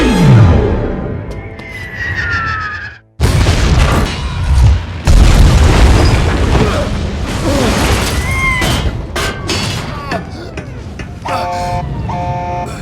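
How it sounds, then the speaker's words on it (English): Explosions and booming blasts from a Star Wars: The Last Jedi space battle scene, a loud dense barrage of bangs and roaring bursts with brief silence near three seconds, then continuous rumbling and whooshing effects. "Gee, pretty convenient that Poe didn't get hurt at all after being caught in that giant fucking explosion"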